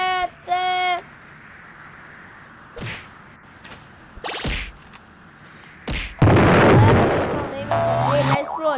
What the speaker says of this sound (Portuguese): Ah, meu foguete. Explodiu aqui.